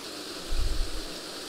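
A small waterfall pours white water into a deep pool in a cutthroat trout creek, making a steady, close, full rush of noise with a brief low swell in the middle.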